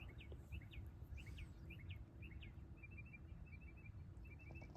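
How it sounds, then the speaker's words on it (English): Several birds chirp in the early morning at an SUV camping spot, short repeated two-note calls and trills, fairly distant, over a steady low rumble of background noise. "hear the sounds of the birdie birds chirping"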